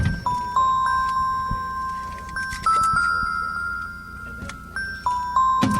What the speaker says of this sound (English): That's the sound of the fridge